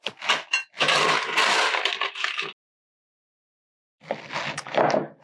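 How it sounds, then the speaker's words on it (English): A whiskey-style mocktail pours over ice in a cocktail glass, crackling and clinking for a couple of seconds, then a pause before a second shorter pour with more cracking. "Now we will pour it in our cocktail glass over ice."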